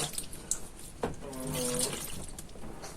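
Tap water running as a child rinses her hands at a sink, a close splashing stream with brief knocks and faint background voices.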